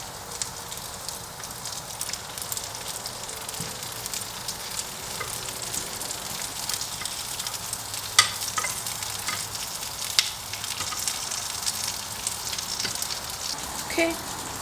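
Hash browns frying in a pan give off a steady, close sizzle and crackle throughout, with occasional sharper pops and light stirring clatter, and no talking.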